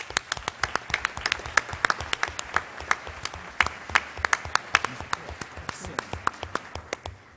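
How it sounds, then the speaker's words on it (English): An audience at a district gathering bursts into sustained applause, with dense, crisp clapping close by that holds steady for several seconds. "one more round of applause for them"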